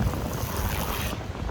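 Wind and ocean surf wash broadly across a beach right after surfing, a steady close roar with buffeting wind noise on the microphone throughout.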